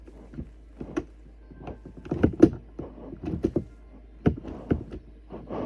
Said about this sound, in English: Hope you don't mind the sound of my keyboard.